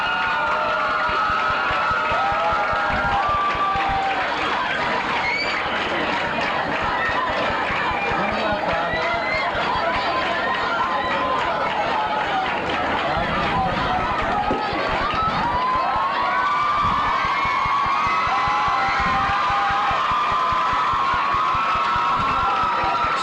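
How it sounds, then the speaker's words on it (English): A spirited crowd at a 1989 high school homecoming football game at Mercy HS in Riverhead, against Greenport, makes a steady roar of cheering through halftime, heard beneath an announcer talking continuously. "spirited crowd here at Mercy as they're enjoying the halftime festivities"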